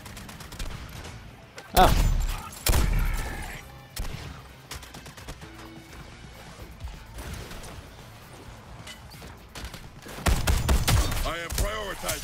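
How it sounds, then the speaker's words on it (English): Bursts of gunfire in Suicide Squad: Kill the Justice League, several loud volleys and scattered single shots at irregular intervals, with a brief exclamation and game sounds between them. "Who's shooting at us?"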